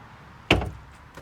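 A thick storage compartment door on a 2020 Grand Design Solitude 344GK fifth-wheel RV shuts with a single solid, close thud, then a faint tap.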